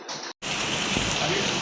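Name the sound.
rain falling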